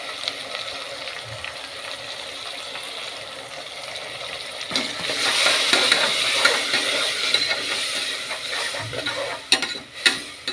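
Ground mint paste sautéing with onions in a pan for mint rice, a steady low sizzle with soft stirring scrapes that grows louder and brighter midway, then a few sharper clicks near the end.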